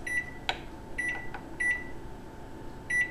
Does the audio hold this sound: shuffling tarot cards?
no